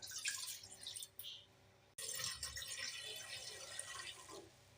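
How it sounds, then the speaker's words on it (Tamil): Water poured into an idli steamer pot, a faint steady trickling and splashing close by, with a short break partway through before the pouring resumes. "அதுக்கு தேவையான தண்ணி ஊற்றிக்கங்க"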